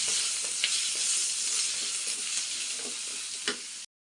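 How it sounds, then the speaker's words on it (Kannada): Onions sizzle steadily in hot oil in a kadai for okra gojju, a close, even hiss broken by a few soft stirring clicks before it cuts off abruptly. "ಈಗ ಈರುಳ್ಳಿ ಹಾಕೋತಾ ಇದ್ದೀನಿ. ಇದೊಂದು ಸ್ವಲ್ಪ ಫ್ರೈ ಮಾಡ್ಕೊಳ್ಳೋಣ."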